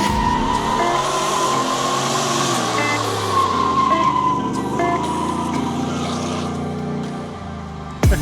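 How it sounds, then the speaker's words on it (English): A Ford F-150 short-bed shop truck does a burnout. The engine roars under a sustained, loud tire squeal that holds for about eight seconds without a break. "It's only right that we do a big fat nasty burnout."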